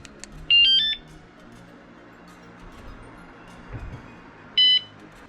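A WSDCAM wireless vibration security alarm mounted on a trailer sounds two short, loud, high electronic warbling chirp bursts a few seconds apart, with quiet background between them.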